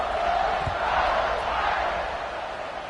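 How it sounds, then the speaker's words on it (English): A stadium crowd in the College Football 26 video game roars in a broad, steady wash of cheering that fills the space, loud throughout and easing slightly toward the end. "this crowd is feeling themselves after that last drive"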